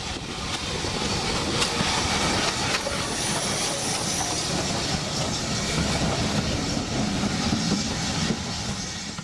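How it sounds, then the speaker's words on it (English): A heritage train pulling into Harmon's Cross station on the Isle of Purbeck gives a steady, fairly loud rolling rumble with a faint hiss and clatter, holding constant throughout with no voices. "But our train awaits. We are making a brief halt at Harmon's Cross."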